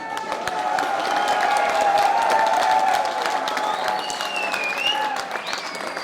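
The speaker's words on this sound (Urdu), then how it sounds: "اب تالی بھی بجا دو" Crowd applauding at a political rally at a youth convention, dense, loud, sustained clapping throughout with faint cheering and whistles on top.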